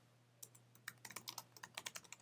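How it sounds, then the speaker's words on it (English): A password typed on a computer keyboard: a quick, uneven run of light key clicks, close and quiet, with no talking. "if I type my password in here, you'll notice as I'm typing it that"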